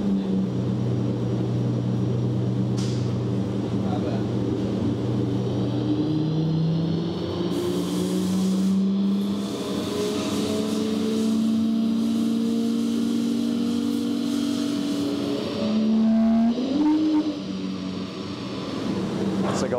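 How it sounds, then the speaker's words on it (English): A stock BMW M240i revs on a dyno, its engine note rising in pitch over several long sweeps and then dropping back, loud and steady throughout, with muffled talk briefly under it. "You're gonna have to join me behind this nice bit of glass while the car is on the dyno"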